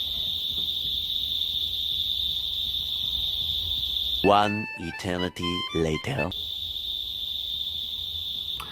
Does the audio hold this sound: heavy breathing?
no